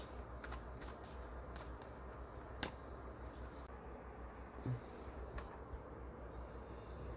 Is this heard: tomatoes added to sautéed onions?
no